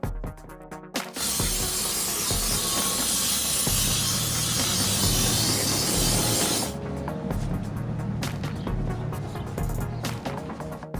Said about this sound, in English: I'm going to spray everything down with some brake cleaner